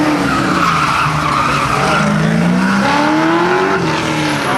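Car tires squealing hard through an autocross cone course at a Goodguys Nashville Nationals event, loud, sustained rising and falling screeches over a roaring engine, close by with no talk.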